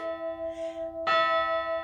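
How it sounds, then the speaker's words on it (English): A bell rung for the start of the Christmas season, a sustained ringing tone joined by a brighter struck chime partway through, moderately loud and alone. "And they ring the year bell."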